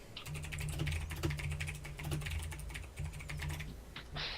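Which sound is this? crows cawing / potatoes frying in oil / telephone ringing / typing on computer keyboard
typing on computer keyboard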